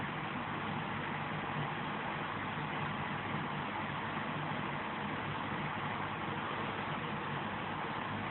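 Space Shuttle Endeavour's three main engines throttling during ascent: a steady, dense, continuous roar with no break or rise, heard alone without any voices.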